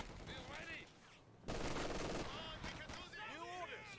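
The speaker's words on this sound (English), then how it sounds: "There's the artillery called in from the base." Artillery fire in a multiplayer strategy video game match, a sudden dense barrage of explosions and gunfire bursting in partway through, loud and sustained, with a commentator talking over it.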